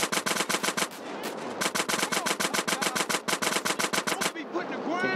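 Rapid automatic gunfire from GTA San Andreas on Android rattles in long, evenly spaced bursts, loud and sharp, with a brief pause midway and a short trailing sound at the end.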